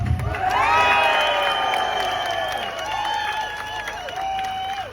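An audience cheers loudly, with sustained shouting and whooping voices and a faint clapping texture underneath, holding strong for the whole stretch.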